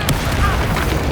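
A Confringo fire spell bursts with a booming explosion in the Hogwarts Legacy video game: one dull, thumping blast up front, then a rumbling tail beneath game noise and voice.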